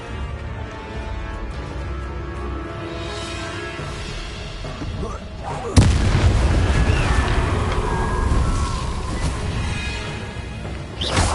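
A Confringo blasting spell goes off in Hogwarts Legacy, a sudden loud burst midway that leaves a sustained rumbling roar over continuous game noise.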